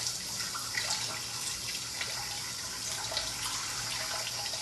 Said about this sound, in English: I'm gonna throw out the water for the beans